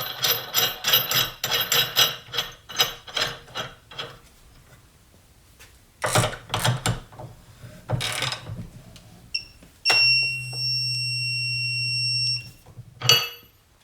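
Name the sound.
Harbor Freight Hercules impact wrench at 145 foot-pounds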